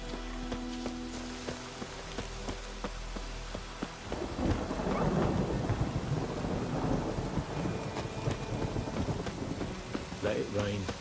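Rain and rolling thunder in The Witcher 3, a steady patter of rain under low distant rumbles that swell into a louder, sustained thunderclap midway through.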